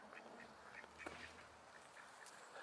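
Ducks quacking faintly at a distance, a few scattered calls over low background noise.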